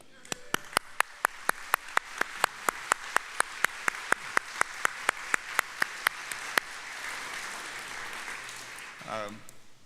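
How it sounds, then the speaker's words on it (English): A morning community gathering gives a round of applause as elected officials and candidates stand; steady broadband clapping runs under a sharp, regular tick, fading out near the end. "You need a round of applause."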